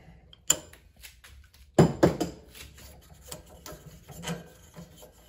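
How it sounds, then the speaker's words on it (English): A breaker bar being worked against a stuck castle nut on an SR15 rifle, heard as close, sharp metallic clicks and scraping, with one heavier grinding burst in a quiet room. "take my handy dandy breaker bar here and pop it into the end. And we're gonna try and break that open."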